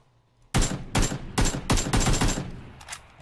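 Rapid gunfire from PUBG PC Lite, a burst of about eight loud, sharp shots in quick succession with a ringing tail fading at the end, no voices over it.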